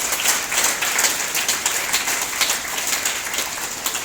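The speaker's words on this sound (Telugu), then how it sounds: "let's all give a big clap" Audience applause at a yoga day event, a steady dense wash of clapping held at an even level for the whole stretch with no voices over it.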